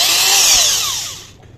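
A power drill spins at high speed while driving thick screws, a loud, close whir that gradually winds down in pitch and fades over about a second.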